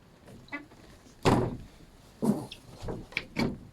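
A greenhouse door is shut with a few hollow thunks and knocks, one louder bang followed by several lighter knocks, close by with no talk.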